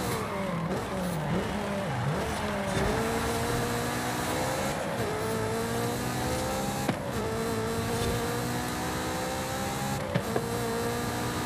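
A racing car engine in Forza Horizon 5 drones loud and steady under rear-wheel drive, its pitch rising through each gear and then dropping at the shifts, with a few sharp clunks along the way.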